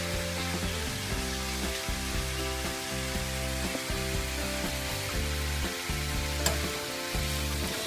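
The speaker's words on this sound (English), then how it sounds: "Then goes my chopped tomatoes. At this point, increase the flame a bit and start stirring." Beans and chopped tomatoes sizzle in a hot pan over a raised flame while a spoon stirs them in a steady scraping rhythm, close and fairly loud, with no talk.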